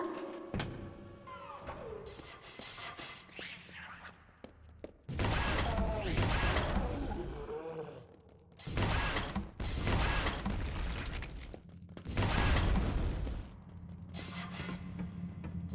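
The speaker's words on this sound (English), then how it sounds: "I keep raising and lowering the elevator without actually riding it." A video game elevator raised and lowered repeatedly, producing long loud mechanical rumbling runs of a few seconds each, separated by quieter creaks and thumps.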